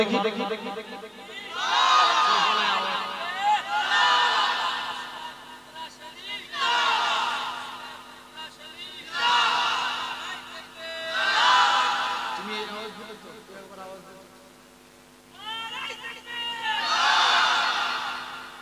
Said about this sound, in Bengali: একটু তাকবীর মারো তো দেখি